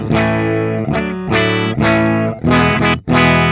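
Electric guitar played through a Neural DSP Quad Cortex capture of a Marshall amp, loud chords with a handful of separate strums ringing and decaying, slightly driven and harmonically rich, with no talking.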